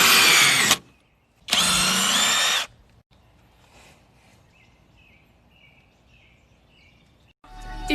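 A power drill drives a hook screw into a board in two loud whirring bursts, then a quiet gap with faint birdsong outside, before a third burst begins at the end.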